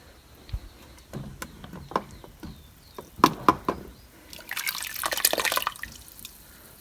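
Scattered drips and small splashes of boiling water as canning jars are lifted out of a water bath, with a few clinks, building to a brief burst of running, splashing water near the end.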